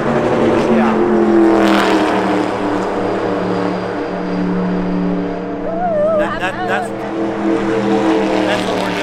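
NASCAR race cars roaring around Homestead-Miami Speedway, a loud sustained engine drone with rising and falling pitch as cars pass, under excited talk.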